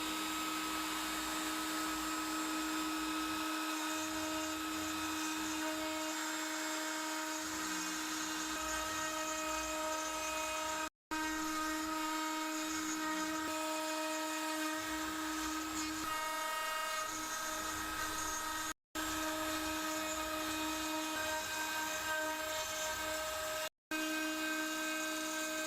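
A Makita trim router on a Foxalien Vasto XXL CNC spins at about 18,000 RPM while cutting scrap pine, a steady high whine with a harmonic hum, broken by three very brief dropouts.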